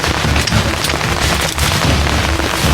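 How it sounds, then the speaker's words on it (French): Heavy winter rain pours down at a carp fishing spot, a dense, loud, steady hiss with low rumbling thumps underneath, like a downpour drumming on gear or a shelter close to the microphone. "Il pleut. C'est trempé."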